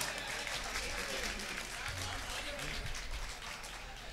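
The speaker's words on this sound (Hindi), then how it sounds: "के कन्वीनर जनाब इश्तियाक दायर आप हजरात मेज़बान शायर का जोरदार तालियों से इस्तकबाल फरमाएं" An audience at a Bhadohi poetry gathering (mushaira) applauds, with dense continuous clapping filling the space throughout, steady and fairly loud with no clear break.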